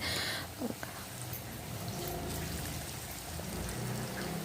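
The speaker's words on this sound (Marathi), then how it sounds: "तर इथे वड्या मी तळून घेते. सर्व वड्या तळून घ्यायच्या आहेत आणि ब्राऊन कलरवर तळून घ्यायच्या आहेत." Coriander vadis (kothimbir vadi) frying in hot oil until brown, giving a steady, even sizzling hiss with a faint crackle, heard close and alone.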